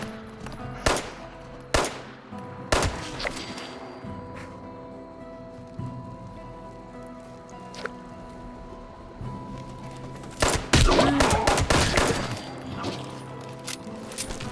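Gunfire in Fallout 76 aimed at wildlife: sharp, loud single shots spaced irregularly, then a dense cluster of rapid shots near the end, over quiet outdoor ambience.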